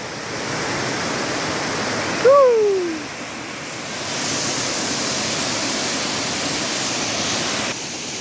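Chamadka Falls, swollen after heavy rain, pours with a constant broad rush of falling water heard up close, with a brief gliding whistle partway through.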